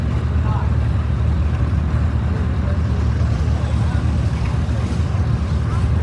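A 1928 Model X oil pull tractor with a pressed steel frame runs in a parade of power, producing a steady, loud, low engine rumble with wind noise and no break.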